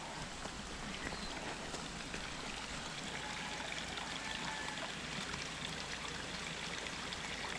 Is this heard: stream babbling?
yes